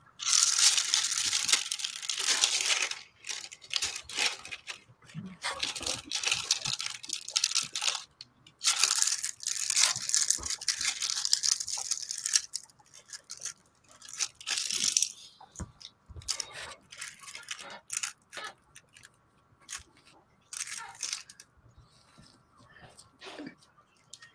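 Plastic packages crinkle and crunch up close while diamond painting, in irregular bursts of rustling that swell loud and then fade between handlings.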